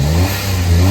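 The engine of a Suzuki Alto Works HA22S, fitted with a new intake and blow-off valve, revs loudly and close up, holding a rising mechanical drone for a second with no speech over it.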